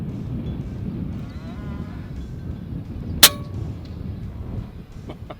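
An air rifle, either an FX Panthera or a RAW HM1000X, fires a single sharp shot at a pest 102 meters away while hunting, heard as one brief crack against a steady outdoor background hiss.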